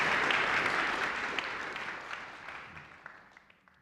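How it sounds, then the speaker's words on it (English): Audience applause at a Talent Forward conference session, a dense wash of clapping from a crowd that starts loud and gradually fades away over a few seconds. "let's give them a round of applause for the great work they're doing"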